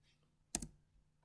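A single sharp keyboard or mouse click during work in an Excel spreadsheet, close and crisp, alone in quiet room tone.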